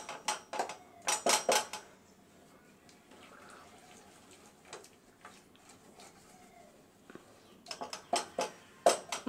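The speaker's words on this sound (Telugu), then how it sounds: "మనం పప్పు గుత్తని చక్కగా స్మాష్ చేసేసుకుని చక్కగా సాంబార్లోకి వేసుకుంటే టేస్ట్ బాగానే ఉంటుంది," Boiled dal for sambar being mashed with a dal masher in a pot, heard as bursts of wet clattering and knocking at the start and again near the end, with a quieter stretch between.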